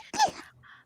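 A single sharp human sneeze, close and fairly loud, with a brief breathy tail and no talk over it.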